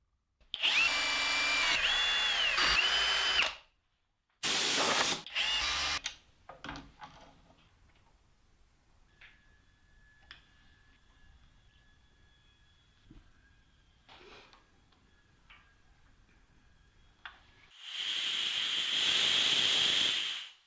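Compressed air hisses loudly through an air assist mist nozzle fitted to a DIY CNC metal lathe, in a few strong bursts at the start and a sustained blast at the end, with quieter mechanical sounds between.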